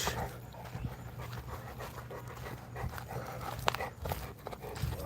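A chained Presa Canario type dog pants heavily and rapidly, close and loud, with faint clinking and shuffling around it.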